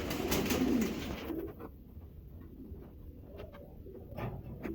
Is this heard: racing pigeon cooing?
yes